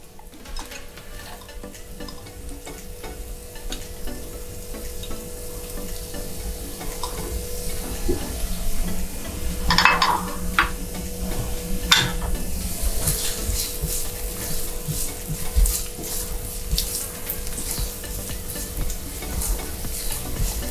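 Onions frying in a pan for Alfredo sauce, a steady close sizzle with occasional stirring scrapes and clinks, no talking.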